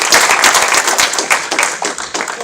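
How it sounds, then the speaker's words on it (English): An audience claps in a steady, dense round of applause at a Republican Party headquarters grand opening, many hands close and loud throughout. "thank you for that nice round of applause"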